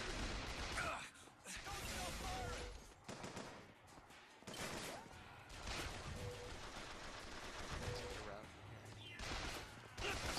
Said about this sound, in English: Killed 30 enemies with the peppermill crank gun.